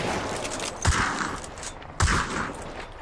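Two sharp bursts of gunfire from a large-magazine, inaccurate gun in the Hunt: Showdown video game, about a second apart, each cracking loudly before fading under steady ambient game noise.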